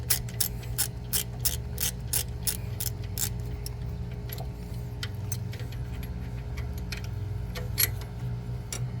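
A hand ratchet loosens alternator bolts on a Toyota Camry, giving quick runs of crisp clicks that pause and start again, close and fairly quiet, with no talking.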